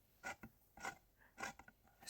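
A lemon is rubbed across a grater for lemon cake, making four soft, close rasping strokes at a steady, unhurried pace in an otherwise quiet room.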